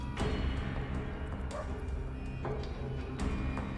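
A dog in the video game Underrail barks in a few short, close yips and woofs spread across several seconds, set against a low, steady ambient background.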